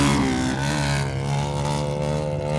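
Racing motorcycles rev hard and pull away from the start in a loud, sustained engine roar with rising pitch, several machines blending together.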